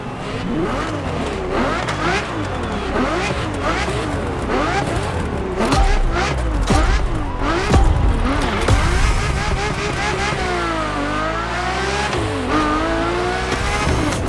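Ferrari F50 supercar racing in The Crew Motorfest, its engine revving and shifting continuously with rising and falling pitch, loud and close, with brief tire squeal throughout.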